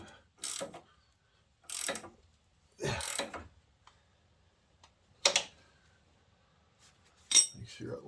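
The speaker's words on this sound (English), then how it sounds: "We'll just tighten these nuts up." Wrench tightening the tie rod end nuts on a Chevy K2500 diesel truck: five separate bursts of metallic clicking and ratcheting, each lasting about half a second, with quiet gaps between them.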